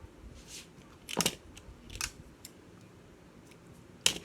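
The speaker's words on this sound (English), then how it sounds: "So we're going to cut the tail just a little bit." Scissors snipping a craft tail on a vintage-style Santa clothespin ornament, a few sharp, isolated cuts spaced apart against a quiet room, close and crisp.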